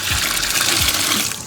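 Water pours from a pitcher into the water pan of a barbecue smoker set up for brisket, a steady close gush with two deeper glugging surges, no voices.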